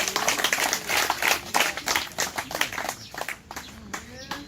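An audience claps hands at a Yoruba speech, with a ragged burst of applause that fades out over a few seconds while a voice speaks over it.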